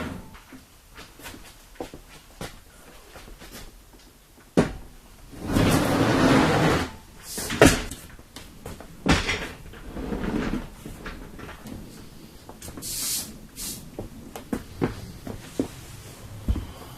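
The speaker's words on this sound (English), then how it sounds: "Let's flip this thing over." An orange Vevor metal welding table is flipped over, making a loud scraping rumble and heavy thuds, followed by scattered clunks and shuffling nearby, with no talking.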